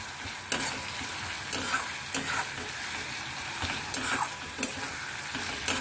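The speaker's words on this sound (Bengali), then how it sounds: "আদা বাটা দিয়ে আবার মশলাগুলোকে ভালো করে মিশিয়ে নিয়ে একটু ভাজা ভাজা করে নিতে হবে।" Whole spices with ginger paste and cumin, cloves and mace frying in a pan while being stirred, a continuous sizzle with scraping strokes coming close and loud.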